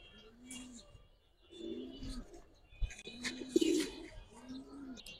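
Indian Chini Kaldam pigeons coo close by in low, rolling, repeated phrases, mixed with a few sharper rustles and chirps, while someone talks quietly nearby.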